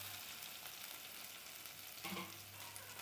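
Chopped onion, ginger and slit green chilli fry in hot coconut oil for a sardine curry, giving a faint, steady sizzle with a brief stir near the end, quiet and unbroken, with no talk.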